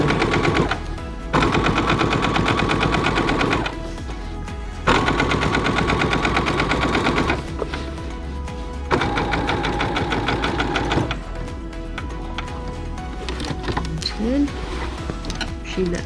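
A sewing machine stitching pockets onto a fabric apron runs in long steady bursts of rapid mechanical chatter with brief pauses between them, close and loud, while a voice talks over parts of it.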